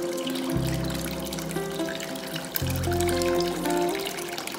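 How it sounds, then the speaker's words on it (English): Water pours into a clawfoot tub, a steady close trickling and splashing stream, with tonal background sounds shifting over it. "I was really excited to be able to actually start filling the tub with water"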